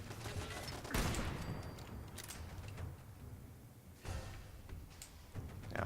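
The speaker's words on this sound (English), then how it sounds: "Except for when we get hit by flaming bullets." Flaming bullet gunfire in Fallout comes as several quiet, sharp bursts of shots spread across a low, hissing background, distant-sounding rather than close.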